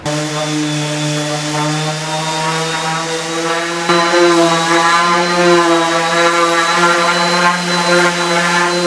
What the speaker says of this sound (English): I'm just going to use the DeWalt Random Orbital Sander to finish these up